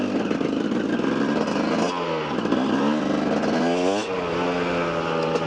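A dirt bike's motorcycle engine on a stony trail ride, droning steadily up close with rising and falling revs as the rider shifts and accelerates, loud and continuous with no talk.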